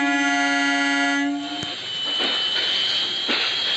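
A loud, sustained DMU local train horn in the Rail Sim India video game blasts for about a second and a half, then gives way to rumbling rail noise with a couple of sharp clanks.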